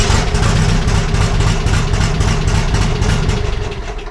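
A sand buggy engine idles right after starting, a loud, steady, close-up rumble with a fast, even pulse that holds for about four seconds with no talking.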